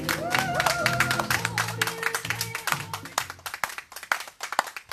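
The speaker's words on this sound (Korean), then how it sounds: "큰 박수 부탁드리겠습니다." Audience applause at an outdoor candlelight rally in Seongju, with dense, close clapping from a crowd and music playing underneath, thinning out into scattered claps.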